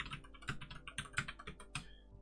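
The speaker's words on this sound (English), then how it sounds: "I'm just going to type in" Fingers tap out a short burst of about a dozen keystrokes on a computer keyboard, crisp, close clicks in a quick, slightly uneven rhythm with no voices.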